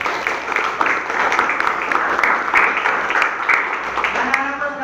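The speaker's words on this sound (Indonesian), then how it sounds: "Tepuk tangan dulu dong." Classroom of children clapping together, a dense, steady wash of many small hands filling the whole stretch at moderate loudness, with a teacher's voice faintly mixed in near the end.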